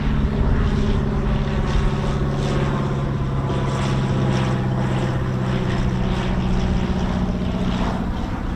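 An RAF F-35 Lightning jet on approach to land produces a loud, sustained roaring drone with a steady low hum beneath a broad rushing wash, holding constant throughout without speech.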